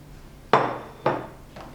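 Two sharp knife chops through a bundle of soaked glass noodles on a cutting board, followed by a fainter third, each a crisp, close thud spaced about half a second apart.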